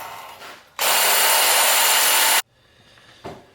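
A Sawzall reciprocating saw cuts through wood in one loud, steady burst of about a second and a half, close by, starting and stopping abruptly with quiet shop ambience on either side.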